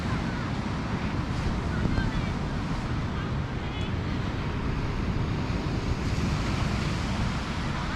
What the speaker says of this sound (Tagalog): Ang laki ng wave.